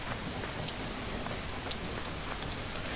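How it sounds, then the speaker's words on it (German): Soft, steady rain patters in the video game MewnBase, a quiet continuous hiss with scattered brief droplet ticks. "Es regnet."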